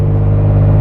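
A Toyota Tacoma driving with its stock pedal response, a loud steady low engine and road rumble heard from inside the cab, with no talking.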